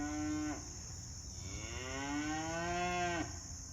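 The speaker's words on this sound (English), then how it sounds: "Cows are upset." Cows moo near a farm ditch, two long, loud calls one after another, the second stretched and rising, with no talk.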